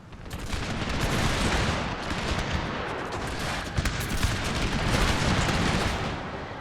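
Dense battlefield gunfire from a Total War game set in the Thirty Years' War, with massed musket volleys and cannon blasts rolling together in a loud, continuous roar that barely lets up.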